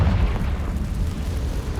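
A Confringo blasting curse explodes in Hogwarts Legacy on PS5: a loud, close, deep boom whose rumbling roar lasts the whole short moment.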